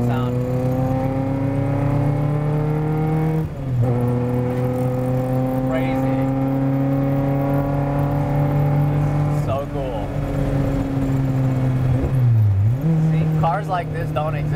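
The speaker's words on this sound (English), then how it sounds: "Just the pure driving sound." A 1985 Honda CR-X engine drones loud and close while driving, a steady harmonic tone that drops and climbs again at several gear changes, with people talking over it.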